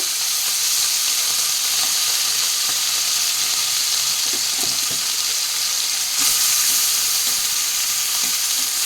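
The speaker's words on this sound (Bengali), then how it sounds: "তেলটা আমার গরম হয়ে গেছে। আর এই যে মৌলা মাছের মধ্যে আমি লবণ হলুদ মাখিয়ে রেখেছি, মাছটা ভেজে নেব।" Mola fish rubbed with salt and turmeric frying in hot oil, a steady bright sizzle and crackle running throughout with a slight surge near the end, close and alone.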